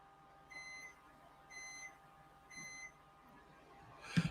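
A microwave oven beeps three times at even one-second intervals, each a clear sustained tone, followed by a brief clunk.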